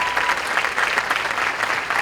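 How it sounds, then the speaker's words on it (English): An audience at a veterans home event applauds for the veterans. The clapping is loud, dense and continuous, with a close, full sound and nothing else over it. "Applaud these guys."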